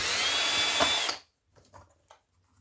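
A power drill whirs steadily while backing screws out of old hard drives, then cuts off, leaving faint clinks and rustles of handling the drive.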